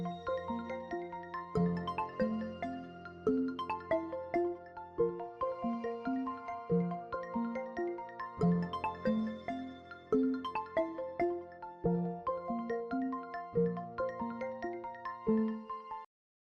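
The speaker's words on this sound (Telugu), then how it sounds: "ఇదేంటి నాకు ఫోన్ చేస్తుంది?" A mobile phone rings with an incoming call, playing a repeating melodic ringtone steadily for about sixteen seconds. The tone is clear and alone, with no voices.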